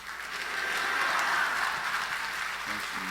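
Church congregation at a Korean revival service clapping together, a steady dense wash of applause that swells and holds at moderate loudness across the moment, with no voices standing out.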